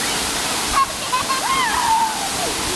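A waterfall in St. Lucia rushes as a steady broadband roar close by, with faint whistles and voices briefly over it.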